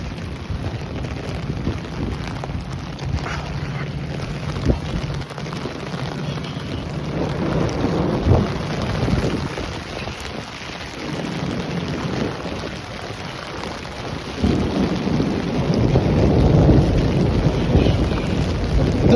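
Severe thunderstorm in Midtown Manhattan, with steady rain and heavy wind buffeting the microphone, low rumbles surging in and out and growing stronger toward the end.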